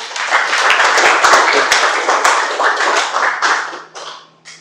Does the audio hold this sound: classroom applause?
yes